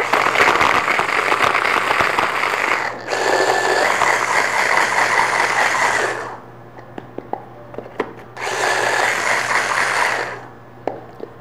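A food processor grinds tart dough ingredients in three loud whirring bursts, the second long and the last shorter, separated by quiet gaps with faint clicks and taps, close up and without speech.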